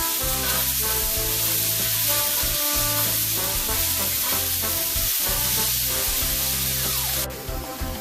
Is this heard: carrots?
yes